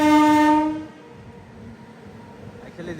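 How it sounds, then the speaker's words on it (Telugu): A goods train runs on the line parallel to the Jan Shatabdi Express between Vijayawada and Chennai, opening with a loud tonal horn blast that cuts off within a second, leaving a low rolling rumble. "ఆ గూడ్స్ ట్రైన్ మన ట్రైన్ అయితే ప్యారలల్గా ముందుకు పోతున్నాయి"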